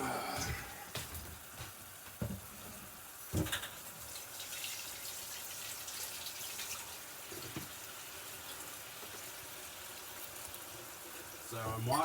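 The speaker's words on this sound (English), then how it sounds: "right now what I'm doing is washing the pasta pan that I'm going to use" Tap water runs steadily into a kitchen sink as a pasta pan is washed, a continuous close hiss broken by a few clunks of the pan against the basin.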